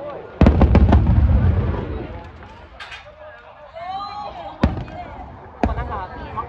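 Fireworks bursting at the Yodogawa fireworks festival in Osaka, with several sharp booming reports spaced a second or more apart, the first loudest, while excited people talk and exclaim over them.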